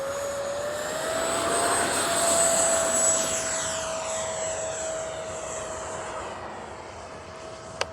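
A Freewing 70mm F9F-5 RC jet model makes a low, slow pass with landing gear up and flaps set. The turbine whine rises as it approaches and sweeps past, then fades as it moves away. No one speaks.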